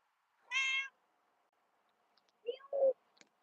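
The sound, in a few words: cat meowing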